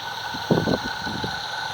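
A diesel engine on a garden railway runs steadily with a low, even hum and faint mechanical throb, close by, with a brief louder rumble partway through.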